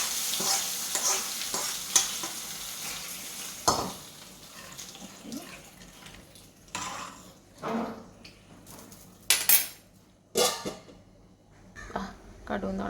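Mustard-seed tempering is poured into a Kerala thiyal curry, making close, loud sizzling and frying bursts mixed with stirring and a few sharp splashes. A voice is briefly present.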